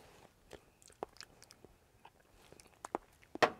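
Someone bites and chews garlic chilli noodles up close, with soft wet chews and a few sharper crunchy bites scattered across an otherwise quiet moment.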